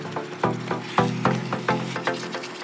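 Marinated meat drops into a pan of frying sliced onions with a close sizzle, marked by repeated stirring scrapes in an uneven rhythm, with no talk.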